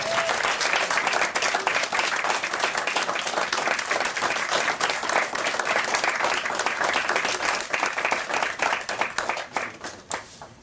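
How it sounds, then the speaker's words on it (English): Sustained applause from a comic convention panel audience, dense clapping at steady strength throughout, with faint voices mixed in. "Another round of applause."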